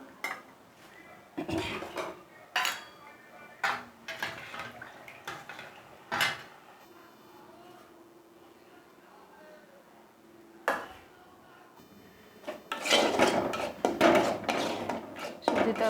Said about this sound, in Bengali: ভাত খাবে ভাত বেড়ে দিচ্ছি